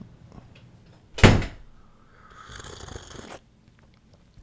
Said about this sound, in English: Our air conditioner makes the door sounds like it gets slammed every time.